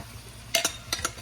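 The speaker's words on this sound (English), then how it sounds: "Time to add the taters to the mix" A spoon scrapes and clinks in a pan as soft cooked potatoes are stirred into Brussels sprouts, giving a few quick close strokes over a faint sizzle.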